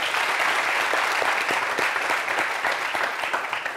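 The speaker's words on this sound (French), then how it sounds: "Qu'on applaudit, s'il vous plaît." Studio audience at a comedy talk show applauding a former football club leader, steady dense clapping throughout with no pauses.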